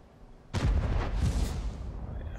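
An artillery gun firing in World of Tanks, a G.W. Tiger self-propelled gun: one sudden loud booming blast with a deep low rumble that lingers and rolls on for about two seconds, with no voices.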